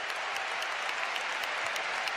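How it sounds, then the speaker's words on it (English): A stadium crowd applauds steadily during a Barcelona versus Real Madrid Clásico as a Real Madrid player is substituted, a dense continuous wash of clapping with no break. "Another standing ovation for a Real Madrid player who's played his part tonight"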